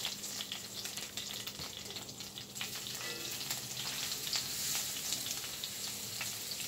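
Meats sear and brown in a hot pan with a continuous dense sizzle and crackle that stays close and steady throughout, with no voices.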